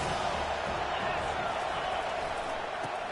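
A stadium crowd at a football game roars steadily for the defense on a third down, a dense, sustained wash of cheering with no breaks.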